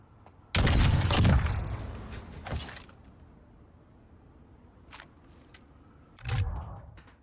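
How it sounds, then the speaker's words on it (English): Sniper rifle fire in a competitive video game match: a sharp, heavy blast with a rolling tail, a second crack soon after, then faint clicks and a final boom. "Closes out the round with a sniper."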